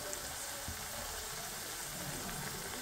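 Asafoetida (hing) fries in hot oil while paneer bhujia is being cooked at home. The result is a soft, continuous, even sizzle that stays faint and steady throughout.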